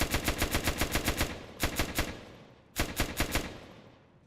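Rapid automatic gunfire in a Roblox game aimed at unicorns: a long burst of evenly spaced shots, a pause, a short burst, then another burst, loud and close with no talking.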